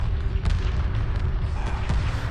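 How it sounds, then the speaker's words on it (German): Spaceships in Homeworld 2 Remastered fire weapons on an enemy from all sides, a dense rumbling barrage of booms and sharp impacts layered over a low, continuous battle drone. "wenn sich die Schiffe alle so um den Feind rumgruppieren und ihn einfach so einschließen und von überall die Schüsse drauf einprasseln"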